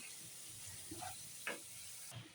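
Spice paste with garlic paste frying and being stirred in a pan for a Bengali rohu fish and taro stem curry, a steady soft sizzle with a few scraping stir strokes, fairly quiet, no talking.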